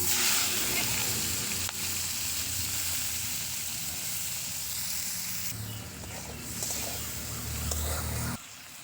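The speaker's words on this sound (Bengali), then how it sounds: "এরপর ওই তেলের মধ্যেই চিংড়ি মাছগুলোকেও ভেজে নেব" Shrimp fry in hot oil in a wok, the place potatoes were just fried, with a steady broadband sizzle running throughout and a brief dip near the end.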